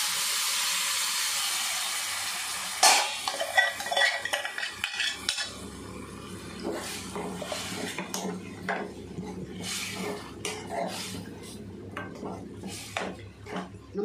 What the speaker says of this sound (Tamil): இது நல்ல எண்ணெயிலே வதக்கிடலாம்.